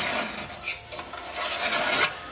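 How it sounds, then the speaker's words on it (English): Metal scribe dragged along the bottom edge of a metal tank to mark a cutout line, producing a close, steady scratchy rasp with a few sharper strokes and no talking. "scribe a line along the bottom of the tank to mark the cutout that we need for the bottom"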